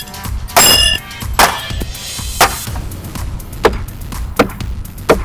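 Sharp woody thunks of thrown knives hitting an end grain wood target land one after another at irregular intervals, several hits with a metallic edge on the first, close and crisp against quiet background.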